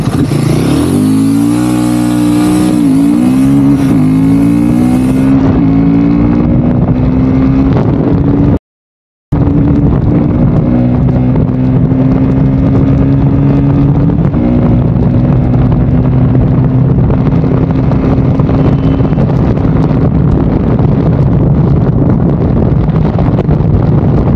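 A 2024 Royal Enfield Himalayan motorcycle accelerates hard in a performance run, its engine note rising and shifting through gears, loud and close with steady wind rush over the microphone and a brief dropout near the middle.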